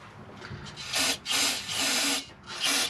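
A rag rubs and scrubs gunk out of the gear housing of a Sterling 10.5 axle on a Super Duty truck, in four loud, broad swishing strokes spaced about half a second apart, with no talk.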